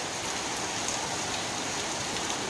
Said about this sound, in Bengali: বন্ধুরা দেখুন মুষলধারে বৃষ্টি হচ্ছে